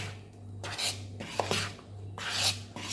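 A spoon stirs banana cake batter made with nendran bananas, giving soft, faint scraping and rubbing strokes in an uneven rhythm in a quiet kitchen.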